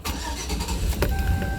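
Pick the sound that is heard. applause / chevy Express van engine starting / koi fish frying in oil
chevy Express van engine starting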